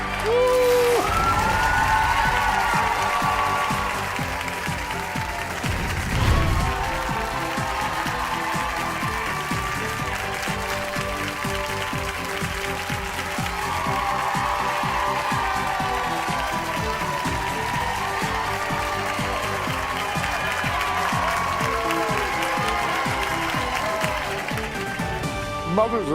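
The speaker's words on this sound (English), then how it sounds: "Look at who's cheering for you." A crowd cheers, whoops and applauds throughout, with voices talking over the steady clapping and a few louder shouts rising and falling.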